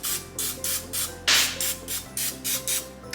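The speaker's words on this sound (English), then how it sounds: "I'm gonna then get my tray and spray some Pam all over it" Pam cooking spray hisses onto a tray over a kitchen sink in about nine short, even bursts, with one longer louder blast partway through, close to the microphone.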